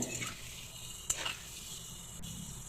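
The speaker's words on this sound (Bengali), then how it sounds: "লাল লাল করে ভেজে নিতে হবে আলুগুলোকে" Potato pieces frying in oil with salt and turmeric over medium heat make a soft, steady sizzle, with a sharp clink of a spatula against the pan in the middle and light stirring scrapes.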